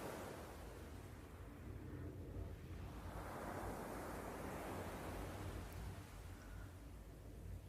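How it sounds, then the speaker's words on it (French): Sea waves wash and roll in a soft, continuous rush, faint and distant, with a gentle swell midway. "Il y a la mer, ses vagues"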